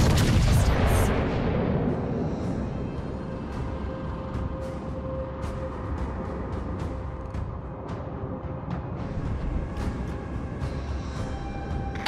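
Naval artillery firing on a target in World of Warships: Legends: a loud, sharp cannon blast opens, then a continuous low rumble of battle noise carries on steadily with faint scattered pops.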